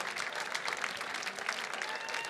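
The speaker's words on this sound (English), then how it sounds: "How about another round of applause for Rich and Martha Draves?" Gala auction crowd at The Mountaineers 2024 event applauding a couple's $20,000 bid, steady dense clapping from a large room that carries on throughout without talk.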